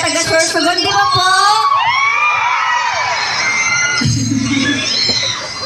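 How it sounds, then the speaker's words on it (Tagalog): A crowd of Sorsogon people cheers, whoops and shouts loudly and without pause, high excited voices and children's yells layered close, with a deeper burst of shouting near the end. "Sa mga hiyawan ng mga taga-Sorsogon, di ba po?"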